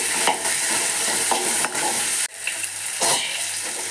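A pinch of turmeric goes into sizzling tempering oil for a Mangalore-style drumstick leaf dry curry, with continuous frying hiss broken by a few stirring scrapes and a short pause midway.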